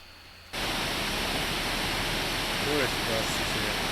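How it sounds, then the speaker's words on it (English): A waterfall near a small town in Glacier National Park roars in as a loud, steady broadband rush that starts abruptly after about half a second and continues unbroken. "This waterfall is just outside of the little town"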